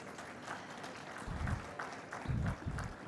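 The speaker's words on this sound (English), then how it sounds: "Can I have a round of applause for him" Audience applause greets a director being called on stage at a defence conference, with bursts of clapping swelling twice over a steady room murmur.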